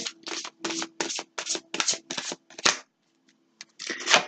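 Tarot cards being shuffled and pulled from the deck, a run of quick papery riffling bursts in a steady rhythm, close and fairly loud, with a brief pause before a final flurry of card handling.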